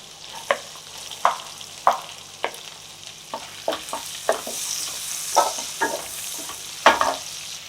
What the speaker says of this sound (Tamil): பச்சை மிளகா, பூண்டு, இஞ்சி இதெல்லாம் போட்டு ஃப்ரை பண்ணுறோம்